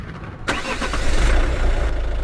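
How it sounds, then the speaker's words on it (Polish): Explosive blast in a mining simulator game: a sudden broadband burst at the half-second mark, followed by a loud, sustained low rumble that stays heavy to the end, with no voices. "Wystrzeliliśmy sobie tunel."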